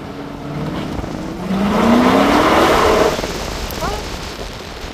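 A 1968 Ford restomod, stripped light with little weight on the suspension, drives along with a steady broadband road and engine rumble that swells in the middle and eases off, alone with no talk.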